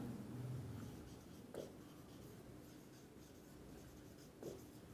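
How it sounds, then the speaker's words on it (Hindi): Writing out a procedure during a physics lesson on the Wheatstone bridge, a soft, continuous scratch of pen or chalk strokes, faint and close, with brief tapping accents as the writing moves along. "मैं लिख देता हूं कार्यविधि"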